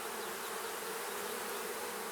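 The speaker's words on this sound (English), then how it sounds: "There's a bee on my glove trying to sting me here." Honey bees swarm around a beekeeper working an open hive during a honey harvest, a dense continuous buzzing that is soft but fills the whole moment with no talk over it.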